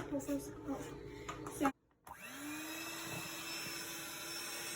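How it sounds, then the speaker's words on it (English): An electric hand mixer whirs steadily through crumbly sugar cookie dough in a home kitchen, a continuous motor drone starting after a brief pause and holding for several seconds, with voices talking before it begins. "Go ahead and mix it up for us, Bubba"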